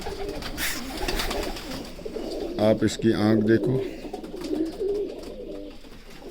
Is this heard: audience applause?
no